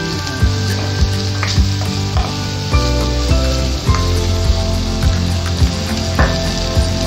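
Plenty of onions fry in a pan, a loud, continuous crackling sizzle broken by regular clacking stirs of a utensil, close up.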